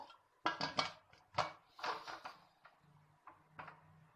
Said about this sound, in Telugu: కుక్కర్కి మూత పెట్టేద్దాము